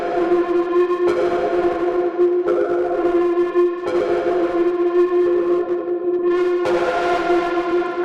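A Playbox synth sample drenched in distortion, reverb and chorus plays sustained, wailing tones that rise and fall in several phrases, loud and reverberant, with no voices.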